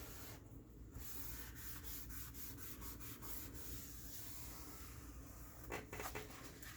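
A napkin burnishing a paper strip into the crease of a journal, heard as faint, close soft rubbing strokes in a quiet room, with a few light taps and a brief rustle near the end.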